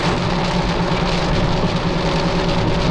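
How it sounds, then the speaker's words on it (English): Heavy rain pours steadily onto a flooded road in Kingston with trucks passing, a dense continuous roar of water and tyre hiss filling the whole moment, with no voices. "look at all this rain"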